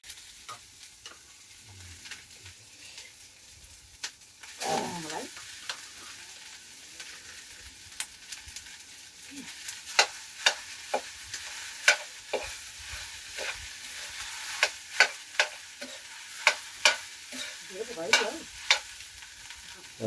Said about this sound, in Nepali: त्यसलाई चाहिँ मासुमा फ्राई गरिन्छ र खाना पनि लगाएर अब फ्राई गरिन्छ